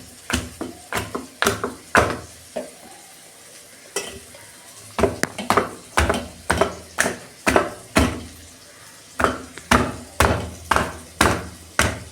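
A large fish head crushed with a grinding stone, in a long series of sharp, rhythmic pounding thuds in irregular bursts, close and alone with no talk.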